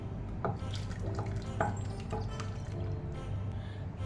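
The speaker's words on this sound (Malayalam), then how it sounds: "അരപ്പിൻ്റെ പാത്രം കഴുകിയെടുത്ത് കുറച്ച് വെള്ളം കൂടി ഒഴിച്ചു കൊടുക്കുകയാണ്." Water from a rinsed masala-paste vessel poured into simmering fish curry on a stove, a few soft splashes and trickles over a low steady background, no voices.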